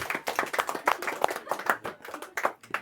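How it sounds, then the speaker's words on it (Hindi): Students in a Class 10 maths lesson clap in unison, a quiet, uneven rattle of repeated hand claps heard from some distance in a classroom with no speech over it. "जोरदार ताली बजा दीजिए"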